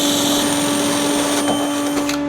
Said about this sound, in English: we're going to drill through the 8-inch C-channel